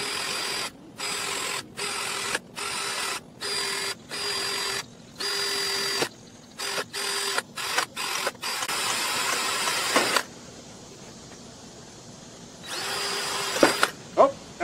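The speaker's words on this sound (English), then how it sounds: "Drill press. Nah, it's working fine." A drill press in a workshop, drilling holes while making a propane burner, runs in repeated short bursts with abrupt starts and stops, close and loud, then a longer continuous run with a few sharp clicks near the end.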